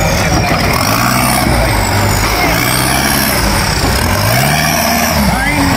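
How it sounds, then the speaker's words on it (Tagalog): A Suzuki Samurai rally car fitted with a diesel engine runs loudly, its engine note rising and falling through gear changes with a whine on top, while a voice talks over the continuous engine noise. "Pero diesel engine na"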